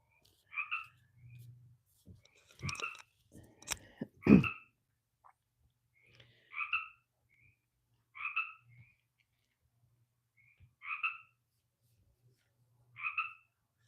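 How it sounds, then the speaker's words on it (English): A frog croaks in regular, evenly spaced double-pulsed calls about every two seconds over a quiet background, with a few sharp knocks and handling noises early on. "I hear the frog."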